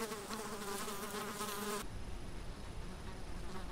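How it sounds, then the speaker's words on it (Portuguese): Flies buzz insistently around chicks drawn to meat scraps in the wild, a steady close insect drone with wavering harmonic tones for the first half, then a rougher, broader hum that continues without talk. "Atraídas pelos resíduos de carne, as moscas são incansáveis nos seus propósitos."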